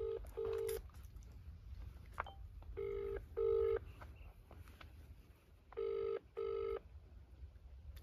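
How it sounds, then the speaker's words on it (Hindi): A phone call rings out over a speakerphone as three pairs of short electronic ring tones, evenly spaced, over a low room rumble, with no one speaking. "स्वराज सहारनपुर मिला लो ये लो स्पीकर खोल दो"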